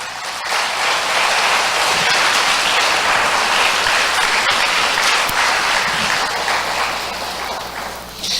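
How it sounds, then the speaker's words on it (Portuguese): A church congregation applauds during a Presbyterian service, with dense, sustained clapping that fills the space at a steady loud level for several seconds before tapering slightly at the end. "Você pode aplaudir o Senhor?"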